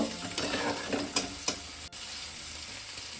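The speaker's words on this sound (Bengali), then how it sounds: "পেঁয়াজটা আমি আর একটু ভালো করে ভেজে নেব।" Chopped onion sizzles in a pan with a soft, steady fry, broken by several sharp clinks and scrapes of a spoon stirring against the metal, close by and fairly quiet.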